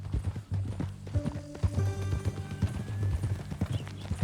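Horse hooves clip-clop in an irregular walking rhythm in Red Dead Redemption 2, close and distinct, with low background tones and occasional faint harness sounds.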